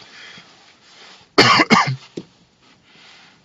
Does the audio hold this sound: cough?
yes